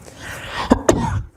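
A single sneeze, a sharp double burst of breath and voice, heard close in a quiet room.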